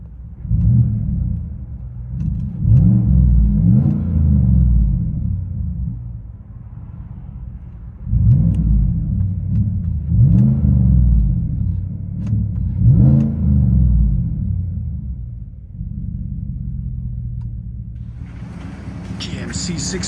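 A 2018 GMC Sierra Denali 6.2L V8 with a Carven R-Series exhaust, resonator delete and 5-inch tips, revs repeatedly in deep, loud rumbling bursts that rise and fall, settling into a steady idle rumble near the end.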